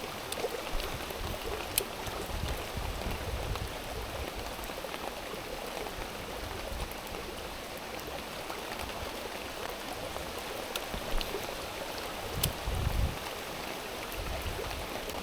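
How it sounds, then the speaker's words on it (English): Heavy rain pours down beside a river during summer trout fishing in the UK, a steady, even hiss of drops on water and surfaces, continuous and moderately quiet, with occasional small splashes and no talking. "Oh, look at that, absolutely pouring down."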